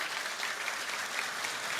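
A congregation at a church service claps, a short, even wash of applause that stays at a moderate, fairly distant level throughout.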